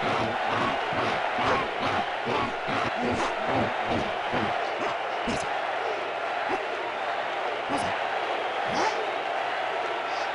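A video game crowd in Conker's Bad Fur Day cheers and roars continuously, with rhythmic chanting pulses early on and occasional sharp shouts rising above the steady din.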